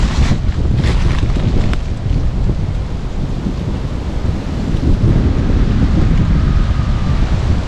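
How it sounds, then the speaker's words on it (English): Strong wind blows across open high ground on rural land, roaring and buffeting the microphone loudly and continuously throughout. "Well, wind blows good up here, doesn't it?"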